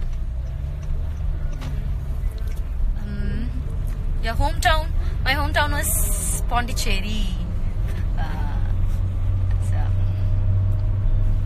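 A low, constant engine and road drone fills the interior of a moving car while people talk over it throughout.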